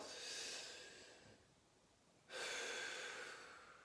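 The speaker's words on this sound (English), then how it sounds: "So really, really upper chest breathing now." A person does an upper chest breathing exercise, taking a sharp, audible breath in, pausing, then releasing a strong, breathy exhale close to the microphone.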